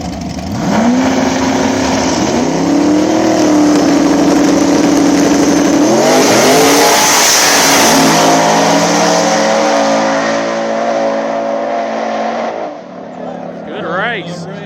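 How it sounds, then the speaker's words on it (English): Small-tire drag race cars, a turbocharged Nova with the turbo mounted behind the driver and a turbo S10, roar and rev loudly at an Ohio back-of-the-track event, their engine pitch rising through gears under a continuous announcer's commentary. "Dylan coming up in the Nova. Turbos mounted behind the driver, taking on the Turbo S10"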